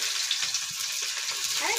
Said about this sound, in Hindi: तेल गरम हो जाए पियाज पकईदेव